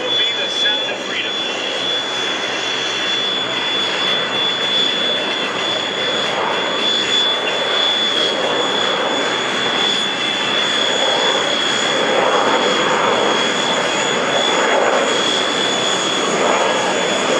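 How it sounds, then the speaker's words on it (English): A United States Marine Corps AV-8B Harrier II jet taxiing at an open house demonstration gives off a loud, continuous engine roar with a steady high whine, unbroken throughout. "Your United States Marine Corps AV-8B Harrier 2 as the Golden Knights come taxiing in."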